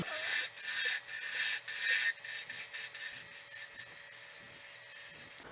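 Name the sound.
planing cut shaping a wood cylinder on a lathe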